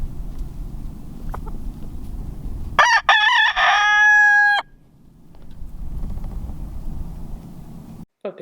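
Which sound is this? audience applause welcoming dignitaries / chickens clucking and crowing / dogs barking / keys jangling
chickens clucking and crowing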